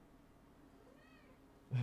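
A pet cat gives a single soft, close meow in a quiet room, followed by a sudden louder bump or rustle at the very end.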